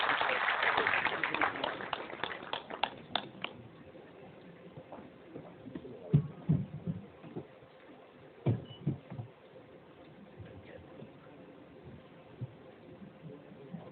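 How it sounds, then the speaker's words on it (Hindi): Audience at a Mahaparinirvan Divas ceremony clapping to welcome a speaker, a dense burst of applause that fades within a few seconds into a voice over a hall microphone. "आप सभी तालियों के साथ उनका स्वागत कीजिए।"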